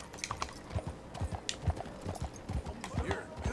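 A horse in the video game Red Dead Redemption 2 clip-clops on its hooves in uneven, close, crisp beats, and a short whinny or snort rises near the end.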